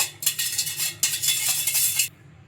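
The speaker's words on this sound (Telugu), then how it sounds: "బెల్లం షుగర్ మొత్తం బాగా కరిగిపోయేలాగా బాగా ఇలా కలుపుకోవాలి స్పూన్ తోటి" A spoon stirs jaggery into water in a vessel, giving two bursts of quick, close scraping and swishing strokes, each about a second long, then a brief quiet.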